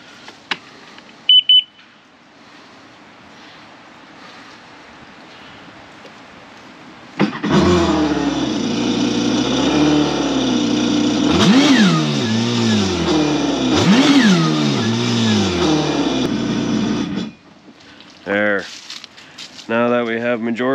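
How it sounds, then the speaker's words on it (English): A supercharged 2022 Kawasaki Ultra 310 LX jet ski engine is started on land during winterizing after a few beeps, then runs loud and rough for about ten seconds with rising and falling revs before shutting off. "So we'll start the engine."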